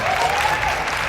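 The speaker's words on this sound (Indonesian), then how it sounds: "tepuk tangan" Brief burst of clapping from a congregation at a Christmas church service, loud and close, with a voice sounding over it.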